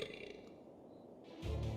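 Belch after drinking pop soda in a comedy soda advert, a short loud burp rising near the end after a quieter stretch, heard alone without talk.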